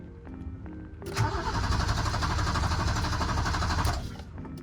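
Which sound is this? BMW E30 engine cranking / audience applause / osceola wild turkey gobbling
BMW E30 engine cranking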